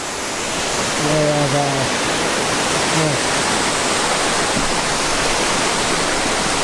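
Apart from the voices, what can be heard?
waterfall in a mossy jungle creek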